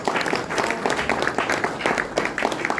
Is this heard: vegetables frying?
no